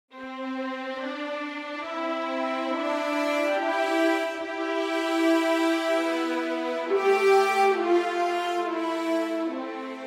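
An orchestral theme melody sounds together with a horn counter melody, rich sustained harmonies swelling and shifting at a moderate, even volume with no talking.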